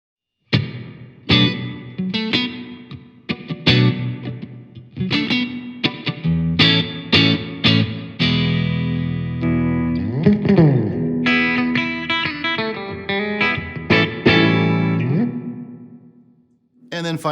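Electric guitar played through a Fender Champion 100XL amplifier on its second reverb setting, a string of picked notes and chords ringing out with a washy tail, loud and close with no talking.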